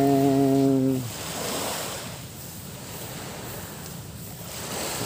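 Sea waves wash along the shore in a continuous broadband roar that swells and eases gently, following a brief tonal sound at the very start.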